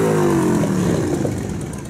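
Parade motorcycles rev their engines at a Veterans Day parade in Surprise, a loud, close, throaty roar that swells at the start and then slowly fades as the bikes move on.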